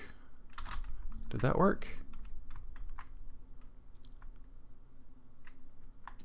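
Computer keyboard and mouse clicks during a modded game session, a few quick close taps and a brief clattering burst of keys, followed by sparse light clicks while someone talks.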